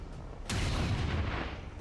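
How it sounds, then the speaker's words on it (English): A big sniper rifle fires once in XCOM 2: War of the Chosen, a sudden loud blast followed by a long rumbling boom that fills the rest of the moment. "then I shoot you in the skull with the big sniper rifle"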